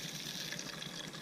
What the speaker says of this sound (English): I just added some water from my Pathfinder bottle